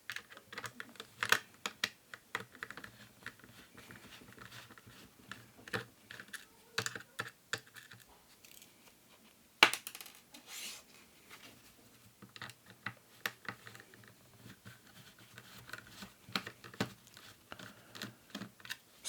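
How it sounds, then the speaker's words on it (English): Small screws being loosened on a Nikon D5500 camera, heard as a dense run of quiet, close, sharp clicks and ticks with brief pauses, and a louder snap near the middle. "So now we've loosened those screws as well."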